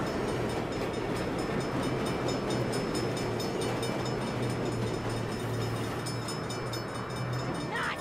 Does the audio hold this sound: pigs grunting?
no